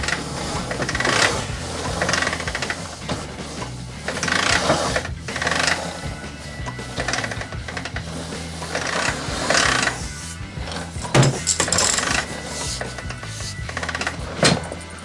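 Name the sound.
retractable air hose reel retracting and reeling up hose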